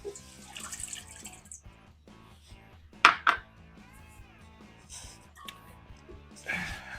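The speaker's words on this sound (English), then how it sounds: "So we're going to put in our water." Water is poured from a container into a mixing bowl of flour, sugar and yeast for dough. It splashes and trickles in short bursts, with faint clinks of the bowl, close by in a home kitchen.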